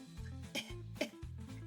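A player voicing a character caught in a rust cloud, imitating a short burst of raspy coughs, two or three quick hacks close to the microphone.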